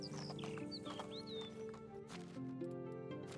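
A horse in Medieval Dynasty gallops with a steady clip-clop beat and gives a few short neighs over the hooves, all under a continuous background hum.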